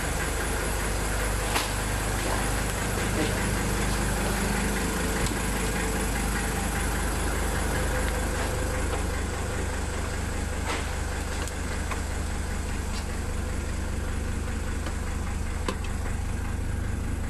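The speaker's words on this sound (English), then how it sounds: "Hasn't been started in 10 years and it idles like it's brand new." Old engine idling after sitting unstarted for ten years, giving a loud, steady, even rumble that stays constant throughout with a few faint clicks on top.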